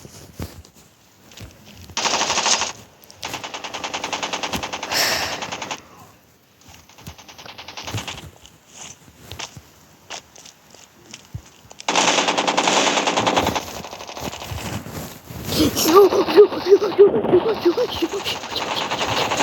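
Rapid bursts of machine gun fire rattle repeatedly in a game, alternating with quieter gaps, while a person shouts over the shooting.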